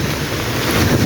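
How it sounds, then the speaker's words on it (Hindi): Strong wind roars steadily in the mountains after heavy rain, a loud, close, continuous rush that buffets the microphone throughout, with no voices. "ये इतनी तेज़ हवा भी इतनी तेज़ चल रही है"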